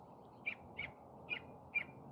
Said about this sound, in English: Can you hear this little bird that I'm having a conversation with?